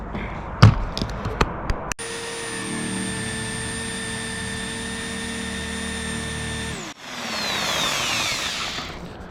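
A few sharp knocks, then a jigsaw fitted with a metal blade whines steadily at a constant pitch before winding down into a rougher, hissing cut through plexiglass.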